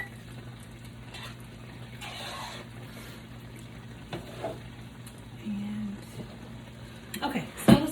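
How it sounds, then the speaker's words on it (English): Beans stirred in a pan with a utensil, giving soft intermittent scrapes and light sizzling that build to clattering strokes near the end, up close, with a voice talking at times. "I'm going to give the beans a quick stir"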